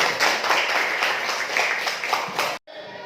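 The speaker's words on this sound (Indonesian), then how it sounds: "Oke, tepuk tangan dulu." A classroom of students claps their hands together. The lively, uneven clapping runs for a couple of seconds before stopping abruptly, followed by quieter room sound.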